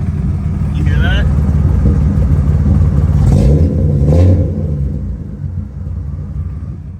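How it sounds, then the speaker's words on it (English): A BMW E36 M3 engine idles roughly with a low, uneven rumble near the microphone, while someone talks over it. "I'm noticing a little bit of a rough idle."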